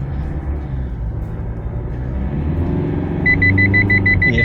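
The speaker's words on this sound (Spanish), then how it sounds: "suena como sonaba un diésel de 4 cilindros hace unos años" Idling Isuzu D-Max N60 Nitro Sport pick-up with a four-cylinder diesel, heard from the cab: a steady low rumble, joined near the end by a repeating electronic warning beep.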